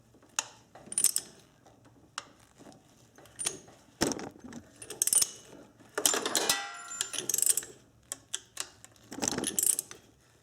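A ratchet on a socket and extension turns the crankshaft of a Subaru 2.5 engine during drive belt replacement, giving bursts of close metallic clicking and clattering with short quiet gaps between them.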